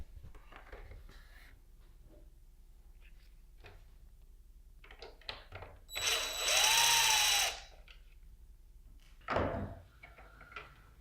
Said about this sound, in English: let's go ahead and take the screws out on the front as well